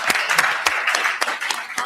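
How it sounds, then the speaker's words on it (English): The audience at a university debate gives a debater a brief round of applause, with scattered sharp claps over a softer wash of clapping, moderately loud. "Please give a round of applause for Tim Imperial"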